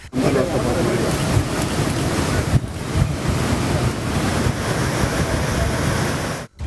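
Heavy water released from Mettur dam on the Kaveri for delta irrigation, a steady loud roaring rush with wind buffeting the microphone, continuous throughout and cutting off briefly near the end.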